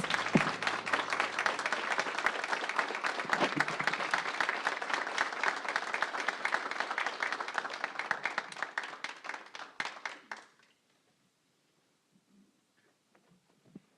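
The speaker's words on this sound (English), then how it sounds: "Can we please give them a round of applause?" Room full of people applauding at a Board of Education meeting, a loud, even wash of clapping for about ten seconds that thins out and stops, leaving near silence.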